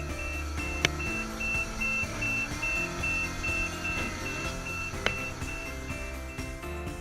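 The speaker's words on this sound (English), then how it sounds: "is used to provide an intermittent alarm whenever the machine is in operation" Niftylift HR-series platform's operation alarm sounder emits a steady intermittent high beep over a constant low machine hum, with a couple of sharp clicks along the way.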